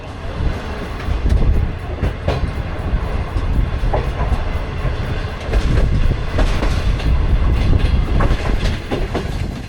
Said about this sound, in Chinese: 开着窗户听着过道岔的轮轨声还是挺舒服的